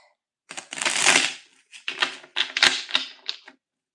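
Rapid papery riffling and soft slaps as a deck of tarot cards is shuffled, in a few close bursts with brief pauses between.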